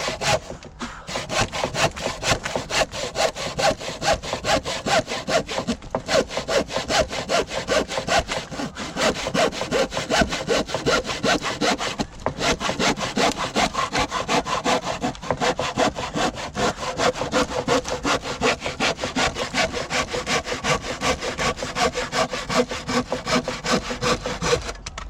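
A hand saw cuts through a wooden scaffolding board in a steady, rapid back-and-forth rhythm of rasping strokes that carries on continuously with only brief pauses, loud and close.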